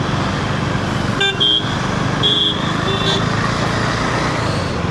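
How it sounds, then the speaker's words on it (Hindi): Dense city traffic roars steadily, with a few short car horn toots sounding near the middle of the stretch. "फिर से ट्रैफिक।"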